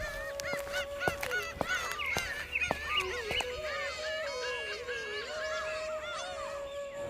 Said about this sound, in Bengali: হঠাৎ মদনের চোখে পড়ে একটি হাঁস